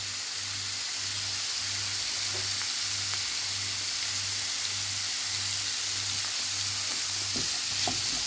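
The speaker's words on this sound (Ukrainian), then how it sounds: "І смажимо разом із грибочками до готовності." Steady sizzling of onions and mushrooms frying in a pan, a constant crackling hiss with a low periodic hum underneath and occasional stirring clicks.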